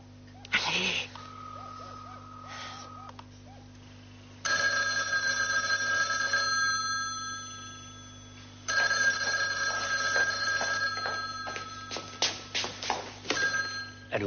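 A telephone rings in repeated bursts of bright, buzzing bell tones separated by pauses, with some clicks and faint background noise, sounding like an older phone heard through film audio.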